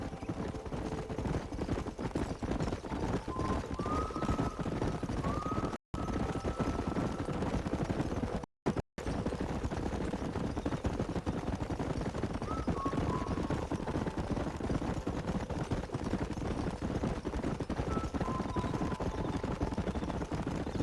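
Horses in the Western video game Red Dead Redemption trot with steady clip-clop hoofbeats over a continuous outdoor game ambience, with brief gaps where the sound cuts out completely.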